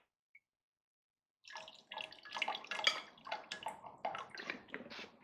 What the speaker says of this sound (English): So we're going to rinse this out.